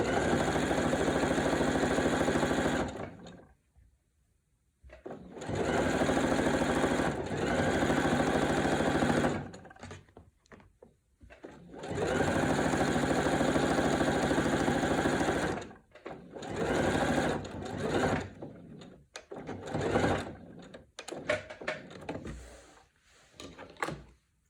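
A sewing machine runs in several bursts while stitching and backstitching quilt binding, each run a loud steady whir separated by short pauses.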